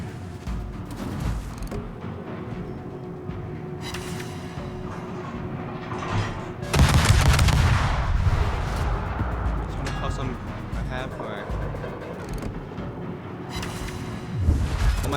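Heavy naval guns firing in World of Warships, a loud booming salvo bursting in mid-clip over a constant engine and sea rumble, with further battle noise and a smaller blast near the end.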